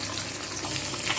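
Three pabda fish sizzle in mustard oil in a kadai, giving a steady, close hiss of frying throughout the short moment with no voices.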